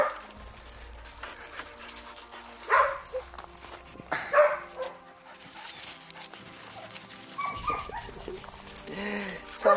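Pit bull dogs give short barks, yips and soft whimpers indoors, heard close and in scattered bursts. Someone talks over and between them.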